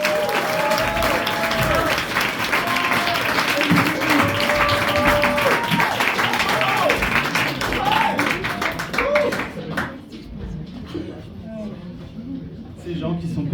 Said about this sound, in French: je vais vous demander s'il vous plaît un tonnerre d'applaudissements pour le premier magicien de la soirée